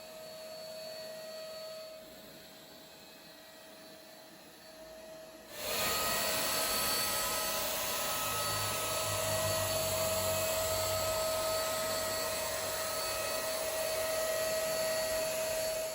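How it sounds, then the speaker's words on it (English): A Wagner paint sprayer applying water-based poly finish to a giant outdoor table hums steadily and loudly after a quieter opening of a few seconds, its whine continuing without pause to the end. "I applied the finish with my trusty Wagner sprayer"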